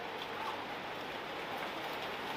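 Heavy rain pelts down steadily over an outdoor football ground during a WAFL Colts match, a dense, even hiss filling the scene without break.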